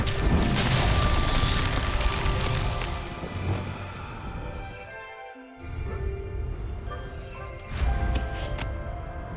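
Confringo blasting spell smashing rocks in Hogwarts Legacy, loud booming crashes with crackling debris, a sustained burst dipping briefly before another strong blast toward the end.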